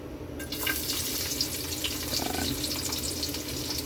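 Garlic frying in hot, reused cooking oil for Filipino adobong sitaw, a steady bubbling crackle that runs continuously at close range with no talk.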